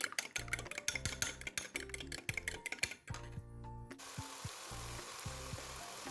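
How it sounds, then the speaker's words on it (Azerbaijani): Beans, onions and two salted eggs are stirred together in a frying pan, with steady sizzling under repeated soft scraping and clinking of the utensil against the pan, then a louder hiss as the frying settles. "2 ədəd yumurtanı üzərinə biraz duz səpdim və qarışdırıram"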